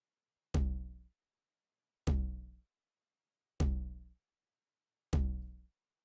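Tom drum sample from a Roland 909 kit used in a soca beat: four single, evenly spaced hits, each a punchy attack fading into a short low ring, heard alone with no other sounds.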